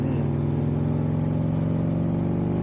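Buell XB9SX motorcycle out on a dry road ride, its engine a steady close drone with a low throbbing rumble held at an even pace, no voices over it.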